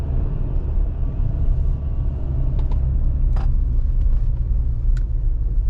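A Subaru Forester 1.8 turbo drives along, heard from inside as a steady, deep road and engine rumble, with a few faint clicks and taps scattered through it.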